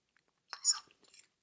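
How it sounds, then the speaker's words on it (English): Chickpea sofrito is chewed close up, with a brief burst of soft, moist mouth sounds and a few faint clicks after. "So it's like I barely have to chew it."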